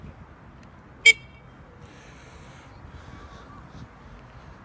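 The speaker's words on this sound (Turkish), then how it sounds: "Şu an bir de kornamızın sesini duyalım isterseniz." A single short, sharp horn toot from an Onvo OV-011 electric scooter rings out over a low, steady background rumble, then nothing but the hum continues.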